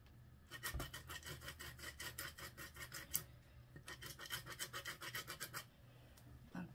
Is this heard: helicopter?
no